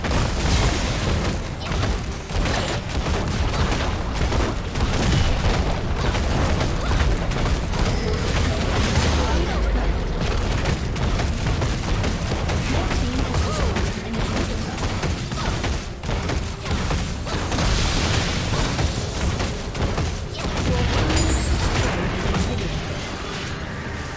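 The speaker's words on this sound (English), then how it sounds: "Your turret has been destroyed." Explosions and booming battle effects roar almost without pause in a League of Legends match as a turret is destroyed, dense, loud and continuous, with no talking.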